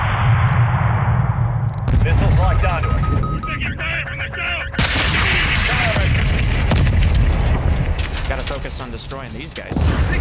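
Gunfire and explosions from the video game Modern Warfare II, with broadband bursts and booms crowding a dense combat mix, interleaved with game radio chatter and voices throughout.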